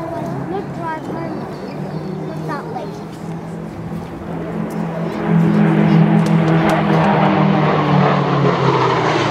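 A Gloster Meteor jet fighter flies over Temora, New South Wales, its engine roar building from a distant rumble to a loud, sustained pass overhead, with someone talking over the first half.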